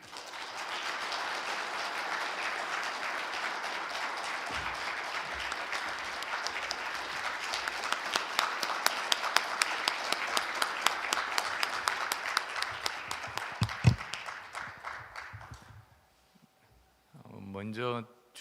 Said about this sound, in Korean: 여러분 환영과 격려의 박수 부탁드립니다